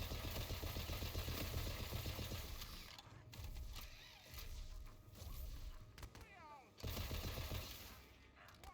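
A shock and dark magic spell in Tiny Tina's Wonderlands fires as bursts of rapid crackling, ratcheting shots, loud in stretches and broken by short pauses, with some voices underneath.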